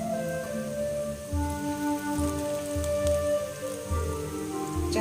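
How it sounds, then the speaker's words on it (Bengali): Makhana pakoras deep fry in hot oil, giving a continuous rain-like bubbling crackle at moderate level, with soft musical tones underneath. "এইভাবে করে দিয়ে আমি একদম লাল লাল করে ভেজে তুলব"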